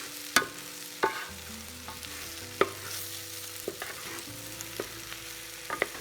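Fried cauliflower stirred into Gobi Manchurian gravy, a spoon scraping and clacking against the pan in scattered sharp knocks over a steady low sizzle, close and with no voices.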